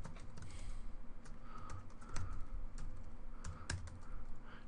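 Fast, uneven keystroke clicks from a computer keyboard as a file name is typed in web design software, close and fairly quiet, with no talking.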